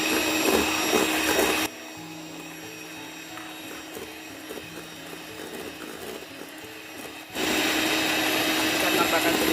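An electric hand mixer whirs loudly while beating eggs with sugar for a milk layer cake, a steady high-pitched motor drone that drops to a quieter hum midway, then returns at full strength.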